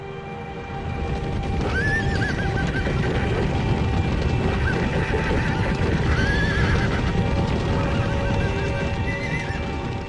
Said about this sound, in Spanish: Muchos de estos caballos todavía no han sido domados.